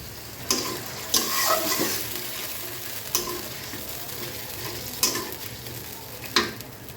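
Ginger-garlic and onion paste cooking in gravy in a pan, a soft continuous sizzle broken by several sharp clinks and scrapes of a spoon stirring, close and moderately loud.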